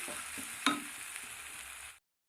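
Ginger garlic paste with coconut fries in hot oil in a pan, a soft steady sizzle with one sharp spatter pop and faint stirring scrapes, close and quiet before cutting off.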